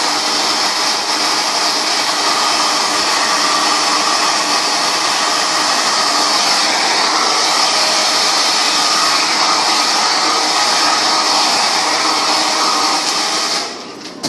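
A hair dryer blows loudly and steadily at close range, a constant whooshing motor roar that cuts off abruptly near the end.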